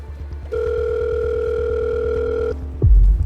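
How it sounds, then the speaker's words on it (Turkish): A telephone dial tone sounds as a call is placed, a steady electronic tone held for about two seconds over a pulsing background beat, ending with a click. "Hemen bir telefon görüşmesi gerçekleştiriyorum."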